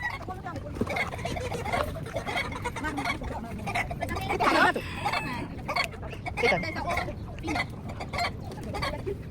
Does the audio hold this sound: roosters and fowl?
yes